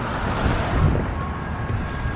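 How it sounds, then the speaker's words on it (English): Strong wind buffets the microphone on a street near the Capitol building in St. Paul, Minnesota, a loud, steady broadband roar with low rumbling gusts throughout and no talking. "Oh my gosh, it's windy."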